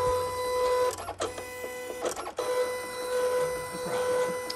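A Silhouette Cameo cutting machine scores a custom pen box, giving a steady mechanical whir with tonal motor whines, broken by short carriage jolts and pauses.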